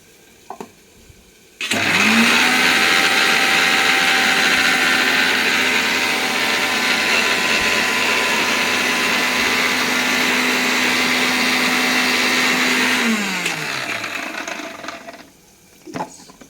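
A mixer grinder whirs loudly, grinding ginger with a little water into a paste for a chana dish. The motor spins up sharply, runs steady and close for about eleven seconds, then winds down, with no talk over it.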